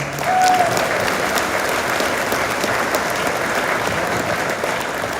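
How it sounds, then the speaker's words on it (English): An audience at a school band concert gives a round of applause, loud dense clapping that swells at the start and then holds as a steady crowd wash to the end. "let's give them a round of applause"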